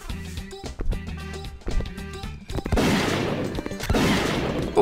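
Gunshots from a first-person shooter version of Super Mario 64 come as a few sharp separate cracks, followed by a louder, denser rush of noise, with little talk.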